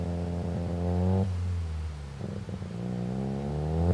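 A ported rotary engine in a Mazda RX-7 FD revs hard on a dyno through a custom 3.5-inch exhaust from downpipe to muffler. A loud, steady, buzzing drone drops off sharply, then climbs again, with no voices.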